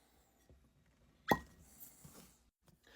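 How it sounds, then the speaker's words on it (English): A cork pops out of a whiskey bottle with a single sharp, close pop, followed by faint handling noise in a quiet room. "that was an excellent cork pop, no doubt about that"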